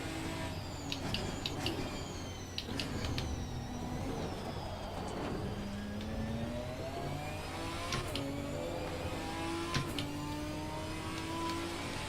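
Several GT4 race cars in Assetto Corsa Competizione rev and shift continuously, with rising engine notes and gear changes overlapping at a steady loudness for the whole stretch, with no talking.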